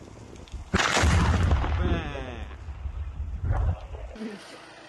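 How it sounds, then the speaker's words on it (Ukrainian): An FPV drone explodes in the air: a loud, close blast booms and rumbles for about a second, then fades, followed by a second sharper burst and scattered crackling. "Ворожий фпв буквально вибухає в повітрі, не долітаючи до цілей."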